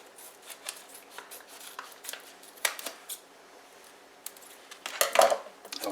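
A sealed food storage bag holding six-and-a-half-year-old stored pinto beans being cut open. Faint snips and crinkles come in a loose series, and a sharper, louder cut lands near the end.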